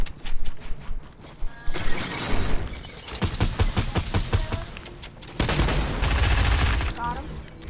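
Rapid gunfire in a video game shoots at a barn roof, bursts of sharp cracks repeating in quick volleys, loud and close, with intermittent talk between players in between.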